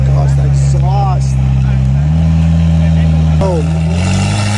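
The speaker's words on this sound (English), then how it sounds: "This McLaren sounds so nasty" A McLaren sports car's exhaust drones loudly and close by, its pitch stepping up midway as the revs climb, with excited voices talking over it.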